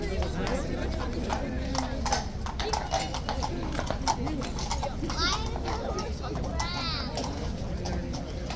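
Hooves clip-clop steadily on a hard surface as a horse walks into its box, with children's voices and chatter in the background.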